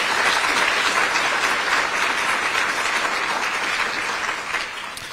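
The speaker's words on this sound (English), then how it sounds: "let's give him a very nice round of applause" Audience applause at a Holocaust remembrance gathering in Cranford, New Jersey, a full sustained round of clapping from a sizable crowd that holds steady and then eases off slightly near the end.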